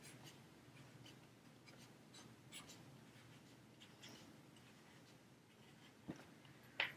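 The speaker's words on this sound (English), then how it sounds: "So we write that in here." Pen or pencil writing on paper while working a math problem, a quiet continuous scratching with a couple of small taps near the end.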